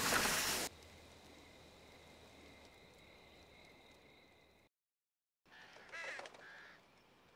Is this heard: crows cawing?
yes